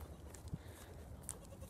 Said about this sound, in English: I have three goats following me.